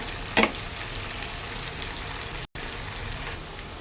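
Onions fry in a pan on their way to browning, giving a continuous close hiss with one brief louder spatter near the start and a short dropout midway.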